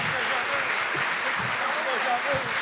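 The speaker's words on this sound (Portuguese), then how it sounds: "Uma salva de palmas" A congregation applauds during a church wedding ceremony, a steady wash of clapping heard alongside a person talking.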